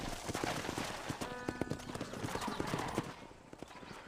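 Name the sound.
horse hooves in Red Dead Redemption video game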